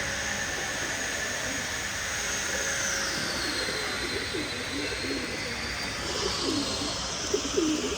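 Pigeons coo softly in a loft, their low rolling calls growing more frequent toward the end over a constant airy hiss, with faint voices in the background.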